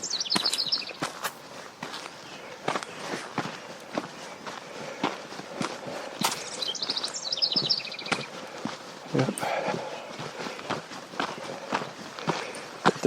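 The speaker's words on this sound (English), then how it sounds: "I'll let you listen to the birds in stereo." Birdsong outdoors with brisk footsteps crunching along a downhill trail, the steps loud and rhythmic while bird calls chirp intermittently in the background.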